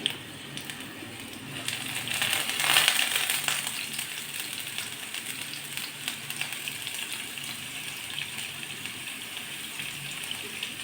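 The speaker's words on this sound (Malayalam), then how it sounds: "അത് ഞാൻ വെളിച്ചെണ്ണ ഒഴിച്ച് വറുക്കാൻ പോവാം" Papaya slices sizzle steadily as they fry in coconut oil in a home kitchen, a continuous close crackling hiss that swells briefly early on, with no talk.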